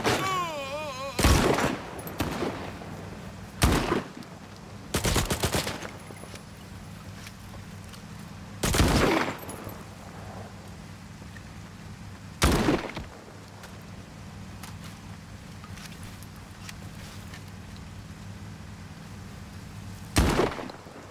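Gunfire from stalkers fighting in S.T.A.L.K.E.R. 2, heard as several loud, sharp shots and short bursts spaced irregularly over a steady low ambient hum.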